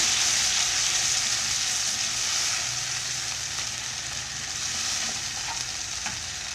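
Fava beans sautéing with tomatoes in a pan give a steady, close sizzle and fry hiss that carries on without a break, with faint stirring scrapes and no voices.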